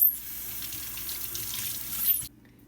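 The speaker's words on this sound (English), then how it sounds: "Peel your garlic. And rinse it." A kitchen sink tap runs while peeled garlic is rinsed, giving a steady close splashing hiss for about two seconds before it cuts off, with no talk.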